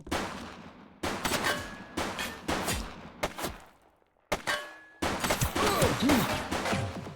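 Bursts of gunfire from the police video game The Precinct crack out loudly in rapid volleys, with brief gaps between strings of shots and echoing impacts.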